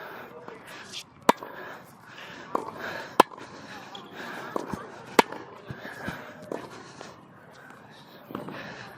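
Tennis volleys struck with a Head Gravity Prostock racket on court, several sharp isolated pops of ball on strings spaced irregularly over faint background murmur and movement.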